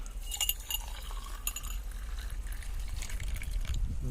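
Soft pouring and trickling of warm water into a cup for date-seed coffee, with faint glassy clinks, quiet and close, no talking.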